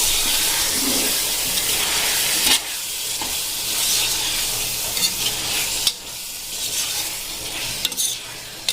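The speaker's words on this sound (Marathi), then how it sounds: "आता आपण हे सगळं मिक्स करून घेऊया" Chicken biryani masala being stirred and sizzling in a pan, a continuous loud crackling hiss with intermittent scrapes and knocks of the spoon against the pan.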